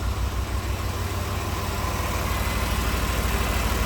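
A Chevy 4.3L V6 swapped into a Willys CJ5 Jeep idles steadily, a constant low rumble with no pauses.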